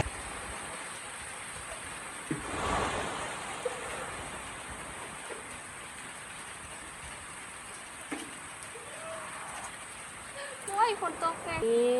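Rain falling steadily outside a home, a soft continuous hiss with a few brief knocks and a voice speaking faintly near the end.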